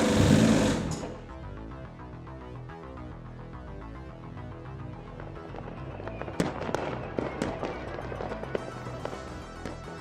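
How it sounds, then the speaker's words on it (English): Fireworks at night during the Spa 24 Hours race crackle and pop in rapid, irregular bursts over a steady background drone, with a few sharper bangs toward the end. "Even had fireworks in the middle of my stint."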